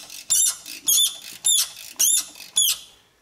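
Dry, rusted sway bar bushings creak on a vehicle as it is rocked, five rhythmic squeaky groans spaced about half a second apart, close and alone.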